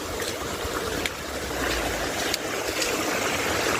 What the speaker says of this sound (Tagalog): Mao ni sapa diri oh.